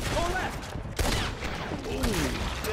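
Rifle shots from Red Dead Redemption 2 crack out amid a busy game mix with background music, a few distinct reports sitting under the general din rather than a steady burst.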